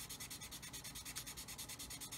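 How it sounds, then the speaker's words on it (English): Quiet, rhythmic rubbing strokes of a sanding stick held flat on a 1/35 scale plastic model kit, about seven back-and-forth passes per second, close and soft, with no talking. "sand away, making sure I keep the stick nice and flat to the surface"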